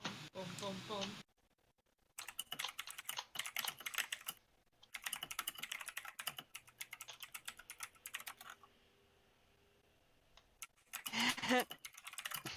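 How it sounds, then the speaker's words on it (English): Clattering computer keyboard typing in quick bursts with short pauses, fairly close and clear, broken by stretches of quiet and a brief spell of talking. "We can hear you typing."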